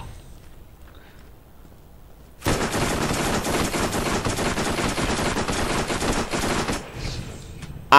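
A submachine gun fires a long, rapid, sustained burst in the Borderlands video game, loud and close, starting abruptly and running for about four seconds before cutting off.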